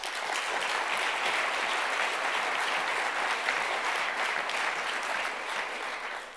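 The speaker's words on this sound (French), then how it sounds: "Merci de l'applaudir tout le monde." Dense, sustained applause from a full audience at the final of an eloquence contest, an even wash of clapping holding steady before tapering slightly at the end.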